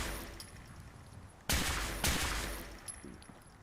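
A weapon fires in Fallout 4: two heavy, booming single shots about half a second apart, each with a long decaying tail, and a faint click at the end.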